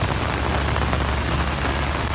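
Heavy tropical rain pours down on the Gili Islands, a loud dense hiss of drops hitting surfaces, steady and close with no pauses and no talking.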